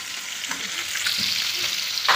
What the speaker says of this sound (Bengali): তো হলদি দিয়ে আর এগুলো বসিয়ে দিয়েছি ভাজাতে।